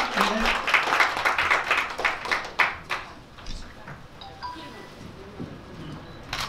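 An audience at an opening mini fashion show claps for the lead designer, a burst that fades into scattered claps while voices talk over it.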